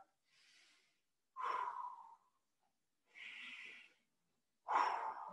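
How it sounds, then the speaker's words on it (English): Slow, deep breaths during a stretching exercise: four unhurried inhales and exhales alternate with clear pauses between them, close and quiet, with no talking. "Two deep breaths here."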